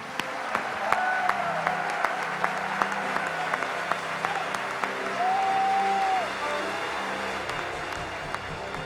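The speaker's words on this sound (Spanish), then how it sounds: "¿Por qué no le da un gran aplauso al novio?" Congregation applauding the groom at a church wedding service, a steady dense wash of clapping held for the full length, with faint vocal tones rising above it and some murmur from the crowd.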